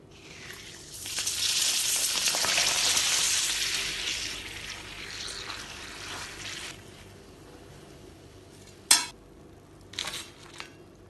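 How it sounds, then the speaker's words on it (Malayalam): Pappadam held in a spoon and dipped into hot oil, a loud bubbling sizzle that swells then fades over several seconds, followed by a few sharp clinks of metal against the pan. "ഇനി പപ്പടം ചുട്ടെടുക്കാം. ഇത് എളുപ്പപ്പണിക്ക് വേണ്ടി സ്പൂണിൽ എടുത്തിട്ടാക്കുന്നിട്ടാ."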